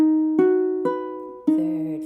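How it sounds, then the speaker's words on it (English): A major chord in first inversion played note by note in three separate strikes, each tone ringing and fading before the next, heard close and alone. "And then the major chord first inversion sounds like this."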